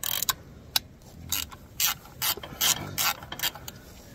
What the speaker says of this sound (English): So we're going to use this ratchet here, back these off.